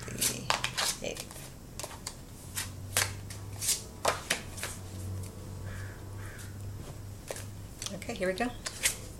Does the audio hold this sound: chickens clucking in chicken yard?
no